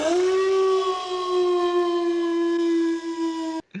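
A sustained, loud howl from the horror film Creepshow 2, holding one steady, siren-like pitch for several seconds before cutting off abruptly, with no talk over it.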